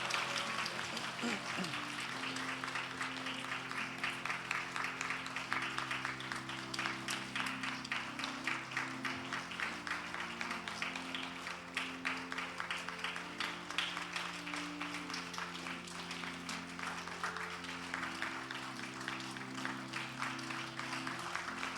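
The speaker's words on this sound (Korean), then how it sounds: "목사님께서 선물을 전달할 때 큰 박수로 진급자들을 축하해 주시기 바랍니다" Audience applause at a church education department promotion ceremony while the pastor hands gifts to the promoted members, steady sustained clapping under sustained organ or keyboard music for over twenty seconds.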